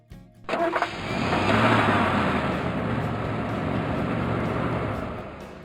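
A truck engine starts with a few quick cranking bursts, then settles into a loud, steady running roar that swells and holds close by before easing slightly at the end.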